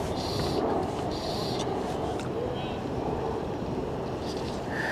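An electric trolling motor on a fishing boat drifting downstream in a stiff wind runs steadily beneath constant wind buffeting on the microphone, with no pauses and occasional faint splashes.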